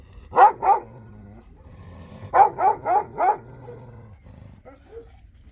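A large Kangal dog barks close by, two deep barks, a pause, then four more in a quick steady run.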